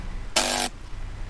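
Thick, dense bass synth from a melodic dubstep drop, one sustained broadband burst lasting about a third of a second, loud and upfront, then cutting off abruptly into quiet.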